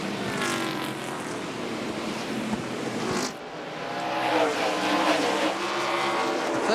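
NASCAR race cars on the track at Myrtle Beach Speedway in 1999 roar past with high, wavering engine whine that fades briefly mid-way, then builds back into a loud, dense pack sound.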